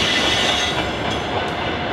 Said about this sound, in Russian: поезд все ближе и ближе